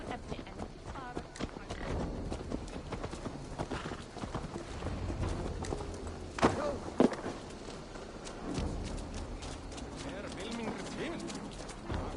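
Horse hooves clip-clop at a walking pace in Assassin's Creed Valhalla on PS5, steady and close, with game ambience and voices talking over them.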